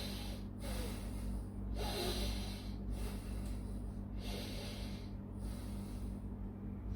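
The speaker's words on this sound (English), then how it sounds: "Continue to breathe" Heavy, rhythmic breathing during a post-Covid strength exercise, with about six strong breaths or snort-like exhales spaced roughly every second over a steady low hum, close and loud.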